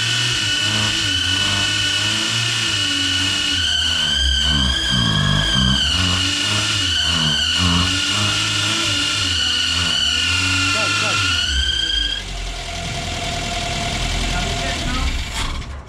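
A clogged car engine cranks and revs unevenly, loud and close with a whining tone, then drops off and falls quieter near the end; voices talk over it.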